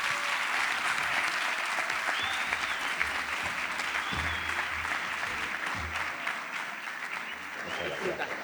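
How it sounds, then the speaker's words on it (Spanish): An audience applauds to welcome poet Joaquín Pérez Azaústre at a literary gathering, a steady, moderately distant wash of clapping that holds for the full stretch, with faint voices mixed underneath. "recibimos, por favor, a Joaquín Pérez Azagustre con un fuerte aplauso"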